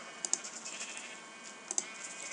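Sheep in the video game Minecraft give a faint bleat, set against quiet background tones and a couple of soft clicks.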